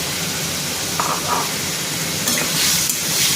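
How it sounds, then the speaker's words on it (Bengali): Pre-fried pumpkin, dried fish and jackfruit seeds go into a pan of cooking curry, giving a steady, loud frying hiss with faint scraping and stirring over it. "এখন আমি যেটা কুমড়ো, শুঁটকি মাছ আর কাঁঠাল দানাটা ভেজে রেখেছিলাম ওইটা দিয়ে দিলাম।"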